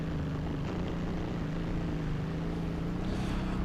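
Suzuki V-Strom 650 motorcycle fitted with a Delkevic exhaust, idling or running steadily with a deep, low, continuous drone close by, no voices.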